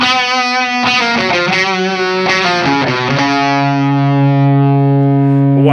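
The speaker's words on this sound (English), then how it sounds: "if we dial this gain up a little bit, we bring the tone up a little bit" An electric guitar plays a loud lead phrase through a Silktone Overdrive+ pedal with gain and tone turned up, quick distorted notes giving way to a long sustained held note, close and alone.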